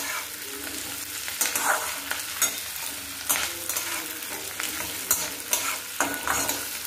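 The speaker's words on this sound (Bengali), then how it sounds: "খুব বেশি ভাজার প্রয়োজন নাই, হালকা করে ভেজে নিচ্ছি।" Chicken pieces for chicken manchurian fry lightly in a pan, with regular scraping stirs over a continuous close sizzle.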